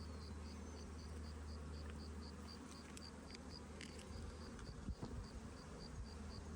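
Honeybees drone steadily around an open hive while a marked queen is handled, a dense continuous buzz with a few brief soft knocks and handling bumps, no talk.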